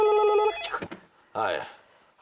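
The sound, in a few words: telephone ringing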